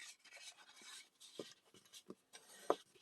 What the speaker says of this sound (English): So just give them a good burnish.